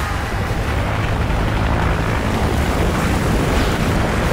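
A helicopter in the video game Call of Duty produces a loud, constant broadband roar of rotor and engine noise that fills the whole stretch without pause.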